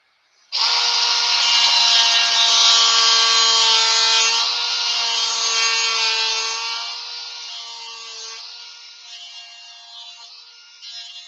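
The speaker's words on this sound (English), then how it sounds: "I might hit this with the Dremel a little bit more." A Dremel rotary tool shapes wood with a steady, high whine that holds for about ten seconds before easing off and fading, with no talking.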